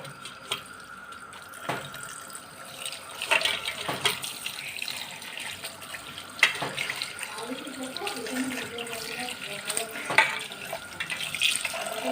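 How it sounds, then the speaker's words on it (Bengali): Chow mein noodles rinsed under a running kitchen tap, water splashing steadily into a sink with occasional clatters and bumps from handling, close and moderately loud. "চাউমিনগুলো আমি ধুয়ে নিলাম"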